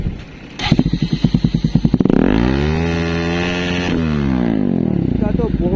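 Pulsar NS 200 motorcycle fitted with an Akrapovic aftermarket exhaust, close by, sputtering at idle and then revving hard into a loud, sustained roar that dips briefly and rises again.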